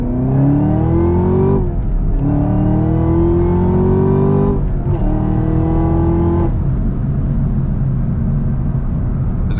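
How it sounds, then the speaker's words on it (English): Camaro ZL1 V8 blipped with the clutch pushed in on a backroad, two loud rising revs that fall away, then a steady idle rumble, close and alone. "That was just me blipping the revs with the clutch pushed in."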